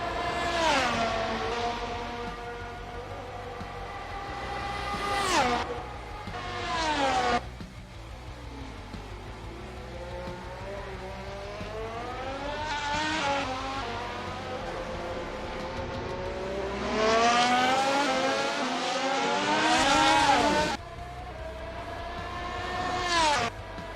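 Formula One car racing a qualifying lap at Monza in a video game, the engine whining up through the revs in repeated rising sweeps, dropping sharply at gear changes and braking, loud and close throughout.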